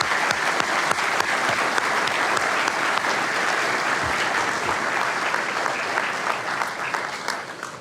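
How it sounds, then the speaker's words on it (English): A graduation audience for a fire department recruit class keeps up steady, dense applause for Captain Olson, loud and sustained with scattered sharper claps throughout. "One more round of applause."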